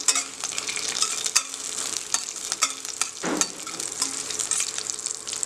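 Caraway seeds, cinnamon, cloves and a slit chilli fry in hot oil in a pan for beetroot rice, with a steady sizzle broken by scraping stirs of a spoon, close and clear.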